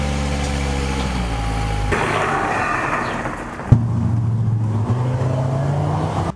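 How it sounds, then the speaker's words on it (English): Volvo XC70 on a test drive, its steady engine hum and road rumble carrying throughout, with a brief knock partway and a lower droning tone after. "let's take this thing on a test drive and see if the pulsing issue is gone"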